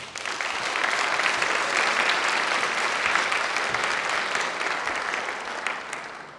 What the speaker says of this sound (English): I think we should still give her a round of applause